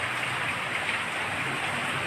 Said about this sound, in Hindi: देख रहे हैं आप बारिश हो रही है